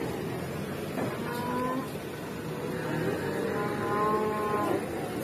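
Cattle low and moo over a busy outdoor farm scene, with drawn-out tonal calls around the middle and end over a steady background rumble.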